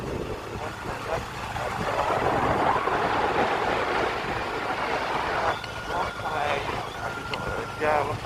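A motorbike ridden through cold wind on the road from Majuli to Dibrugarh: a loud, continuous rush of wind buffeting and engine roar, with someone talking over it throughout.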